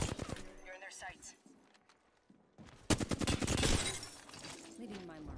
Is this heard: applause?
no